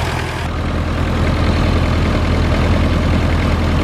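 An International B275 tractor's diesel engine runs steadily at a constant throb, loud and close in an outdoor ploughing setting, with no speech over it.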